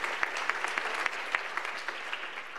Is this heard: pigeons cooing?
no